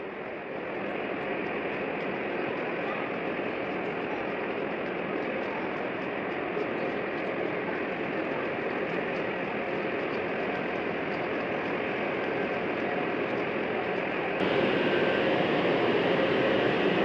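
Steady, broad interior rumble and rushing noise of the Haramain high-speed train travelling from Madinah to Jeddah, constant and unbroken throughout, with a slight rise in loudness near the end.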